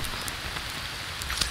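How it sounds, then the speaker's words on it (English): Steady rain falls in the Green Hell video game, a dense, even hiss of drops with a few louder patters, heard alone for a brief moment. "Oh, it's raining"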